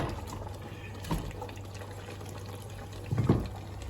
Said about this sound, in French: et 2 litres d'eau